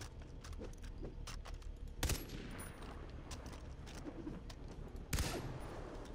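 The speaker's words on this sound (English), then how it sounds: "It's firing actual bullets now." A gun fires bullets in the video game Far Cry 3: Blood Dragon: rapid, crackling shots over steady game ambience, with two heavier, louder blasts that stand out.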